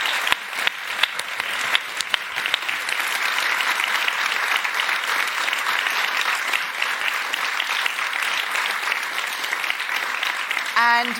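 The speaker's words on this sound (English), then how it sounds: "Can we all give Bernardine Evaristo a huge round of applause" An audience at an author talk breaks into sustained applause, a dense, loud patter of clapping that carries on steadily for several seconds with a few cheers mixed in.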